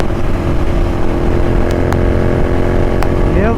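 A Royal Enfield GT 650 motorcycle engine drones steadily and loudly on an evening ride through summer traffic, with faint horn-like tones and a rising rev near the end, but no distinct exhaust crackles.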